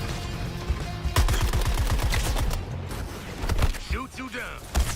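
Rapid bursts of gunfire from the video game Suicide Squad, with a quick rattling volley followed by further shots and mechanical clatter, loud and close, mixed with game sounds and voices.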